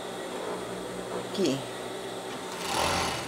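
A sewing machine backstitches to lock a seam on a dog's fleece sweatshirt, a steady close whir with a brief burst of faster stitching, under quiet background noise and faint talk.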